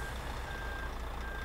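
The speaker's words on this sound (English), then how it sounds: "the beeping reversing sound" A truck in the video game SpinTires MudRunner gives a steady electronic reversing beep, a high sustained tone over low engine rumble, heard alone for a moment.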